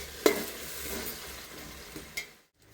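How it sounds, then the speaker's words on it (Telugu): Two tomatoes stirred into frying masala in a pan for paneer biryani, a steady soft sizzle with a few sharp scraping clicks of the spoon against the pan, ending abruptly in silence. "తర్వాత 2 టమాటాలు, ఇవి కూడా వేసి ఒక్కసారి కలపండి"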